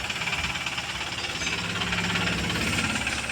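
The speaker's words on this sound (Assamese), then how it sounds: "উঠাই দিয়াৰ পিছত ষ্টাৰ্ট দি দিলোঁ।" A Mahindra Supro engine runs steadily after starting, with a continuous rough, knocking idle at a close, even level and no voices.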